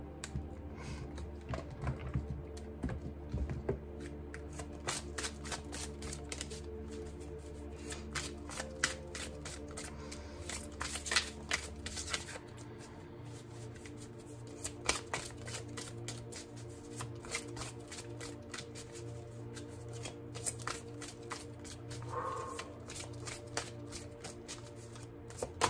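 A Warriors of the Earth oracle deck being shuffled by hand, a long run of rapid papery card riffles and slides, close and steady, with brief pauses between bursts and a low background hum throughout.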